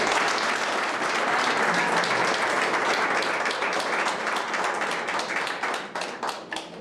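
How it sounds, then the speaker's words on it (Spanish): An audience claps steadily and densely at a silver-jubilee reunion of the 1987–2012 graduating class of a university faculty, the applause holding for several seconds before thinning into scattered, separate claps at the end. "fuertes palmas nuevamente para todos"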